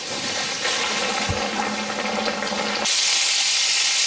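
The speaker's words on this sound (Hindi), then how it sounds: "अब हम इसे फ्राई के लिए डाल देंगे।" Flour-coated rohu fish dropped into hot oil in an iron wok, a steady sizzle that swells into a louder, bright hiss partway through.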